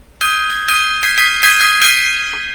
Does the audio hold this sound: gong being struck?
yes